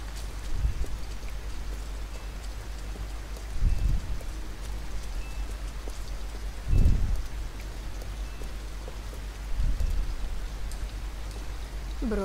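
Rain falling in the game Detroit Become Human, a steady soft hiss of rainfall broken by a few low dull thumps, fairly quiet and continuous with no talk.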